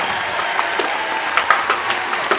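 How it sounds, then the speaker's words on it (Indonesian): Audience applause for a talent show performer, a steady wash of clapping with a few sharper claps standing out, fairly close and continuous throughout. "Tepuk tangan untuk Sukar semuanya"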